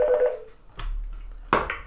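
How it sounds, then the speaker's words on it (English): A Mitel 420 IP desk phone in an office gives short electronic tones as an extension is dialed, a few distinct beeps separated by quiet gaps over a low background hum. "We're going to start by just dialing the extension of another phone here in my office, 2803."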